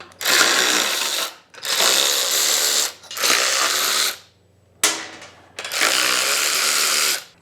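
Bursts of rapid ratcheting from a wrench loosening the exhaust header bolts on a 1993 Honda XR250L motorcycle, four loud close runs of a second or so each, split by short pauses.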